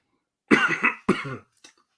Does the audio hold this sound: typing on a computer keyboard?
no